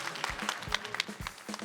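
Audience at a televised education concert in Ulsan claps for an author, a fairly quiet, loose patter of individual hand claps spread through the room, irregular and slightly distant.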